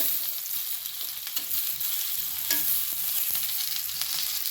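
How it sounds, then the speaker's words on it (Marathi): Fish fries on low heat in a pan and is turned over, giving a steady close sizzle with scattered light clicks and scrapes from the flipping, and no voices. "एका बाजूने आपले मच्छी हे छान फ्राय झालेले आहे आता आपण हे पलटी करून घेऊया"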